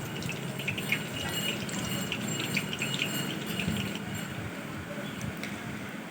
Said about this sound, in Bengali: এগুলো আমি ভেজে নিই পকোড়াগুলো